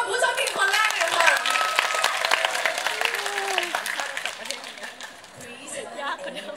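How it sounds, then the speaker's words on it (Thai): A crowd of fans at a Jeff Satur fansign event applauds the first lucky winner, steady clapping mixed with chatter and cheers that holds throughout and eases slightly near the end. "ขอเสียงปรบมือให้กับผู้โชคดีคนแรกเลยค่ะ"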